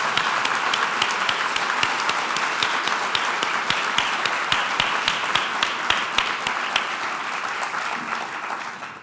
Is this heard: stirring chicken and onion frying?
no